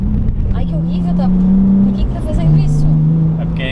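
Nissan 370Z fitted with an Armintrix exhaust growls steadily while drifting, a loud sustained engine drone that dips and rises again, with people talking over it.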